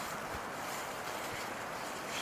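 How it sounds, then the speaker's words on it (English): Blizzard wind gusts past a parked car, heard as a steady, faint broadband rush with mild swells and low buffeting, no voices. "Wind seems to have picked up a little bit"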